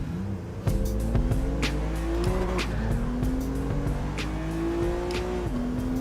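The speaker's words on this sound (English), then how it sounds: "Josh is gonna drift." A BMW M2 Competition drifting in Gran Turismo 7, with a loud, steady engine drone that rises and falls in pitch under repeated squealing tires, sustained for several seconds.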